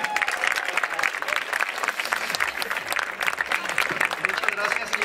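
Audience at an evening gala applauds its director, a dense, steady wash of clapping from a large crowd with scattered voices mixed in throughout.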